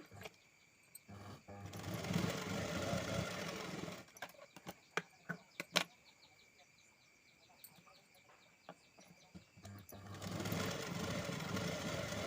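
A sewing machine stitches a lined blouse in two sustained runs of steady whirring, close and moderately loud, separated by a pause filled with clicks and handling taps.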